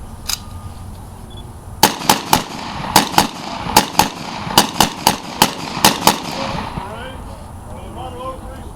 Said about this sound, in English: He's going to cover the position with his 30 caliber M1 carbine.